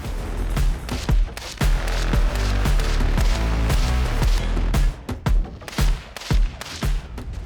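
Rapid, irregular gunshots crack one after another, loud and close, with brief pauses between bursts of fire at an outdoor range during a shooting tournament.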